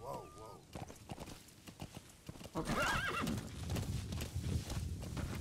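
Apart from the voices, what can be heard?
horse galloping and neighing in video game Metal Gear Solid V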